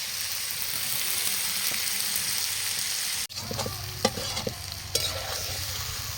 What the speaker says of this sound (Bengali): মাংস কষানো চলছে